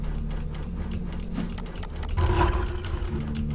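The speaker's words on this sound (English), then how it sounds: "That was just a stone grinding." Stone grinding in a horror video game: a low, faint, rough rumbling scrape with a rhythmic rattling texture, swelling briefly midway before settling back.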